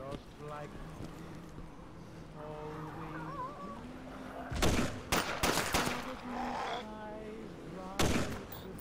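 Gunshots from a 1911 pistol in the survival game DayZ, a few sharp bursts in the latter half, loud against a background of engine-like tones, with voices talking around them.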